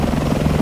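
A small, light premium helicopter in War Thunder flies past with a steady, loud rotor chop, its rhythmic beating pulsing evenly throughout the short moment with no talk over it.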